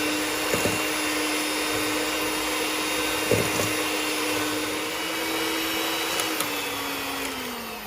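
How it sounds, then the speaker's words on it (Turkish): An electric hand mixer whips eggs and sugar for a semolina dessert, a steady close whirring motor whose pitch drifts slightly lower toward the end, with a few faint knocks of the beaters against the bowl. "Daha sonra mikser yardımıyla bu şekilde iyice karışana kadar çırpıyoruz."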